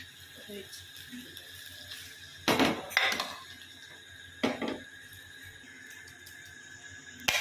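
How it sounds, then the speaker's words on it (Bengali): Boiled potato paste and boiled peas are tipped into a cooking pan for ghugni, giving a few loud clattering scrapes and knocks of utensil on metal, separated by quieter kitchen background. "আলু আর মটর কড়াইটা দিয়ে দেওয়া হবে।"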